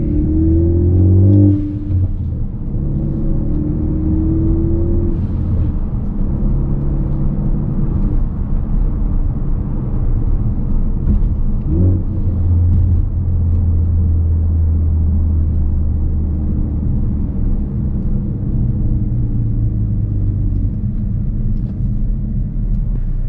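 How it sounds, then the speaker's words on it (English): A Ford Focus ST's Borla exhaust rumbles loudly and steadily, with a brief Turbosmart blow-off valve whoosh near the start and another burst partway through, no voices. "hear what the Borla exhaust and the Turbosmart blow-off valve sounds like"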